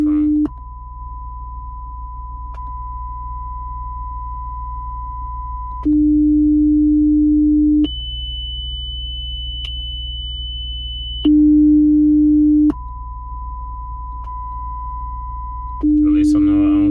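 Steady sine test tones from a Nissan/Infiniti diagnostic menu speaker check step through several pitches. Each lasts a few seconds, low then mid then high then back, with brief clicks at the switches.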